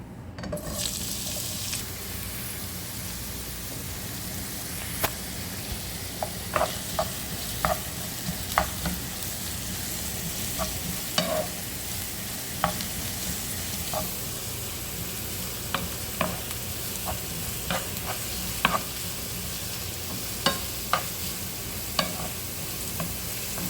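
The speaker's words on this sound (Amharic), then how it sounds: "እንደዛ አድርገን ሽንኩርታችንን እናቆላለን ማለት ነው።" Chopped onions fry in hot oil in a pan for an Ethiopian rice dish, a continuous close sizzle broken by frequent sharp scrapes and taps of a stirring spoon, no voices.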